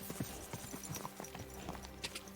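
A horse's hooves clip-clopping at a steady rhythm in the video game Kingdom Come Deliverance 2, close and fairly quiet, with a faint whinny.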